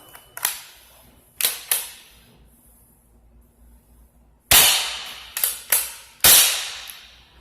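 Nerf Rival Knockout XX-100 blaster firing foam balls, sharp loud snapping shots: two pairs of cracks with pauses between, then a rapid burst of four close shots, each ending in a short ringing decay.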